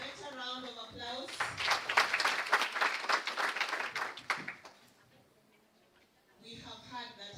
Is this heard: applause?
yes